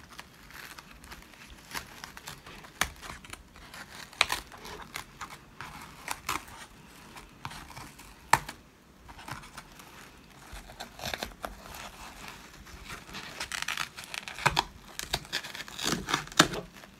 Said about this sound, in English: you want to take your scissors and get inside of that little tulle cocoon. And you just want to cut straight across.